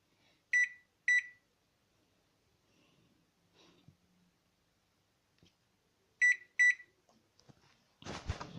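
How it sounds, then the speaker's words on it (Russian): A microwave oven toasting croutons gives two pairs of sharp electronic beeps, with faint handling clicks and quiet gaps between them and a rustle at the end. "закрываем нашу микроволновочку и ставим на старт"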